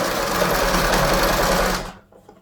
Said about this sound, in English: just fold it over about 1 centimetre, sew along that line, and you do it all the way round